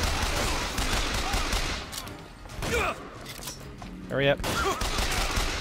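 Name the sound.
gunfire in the video game Bioshock Infinite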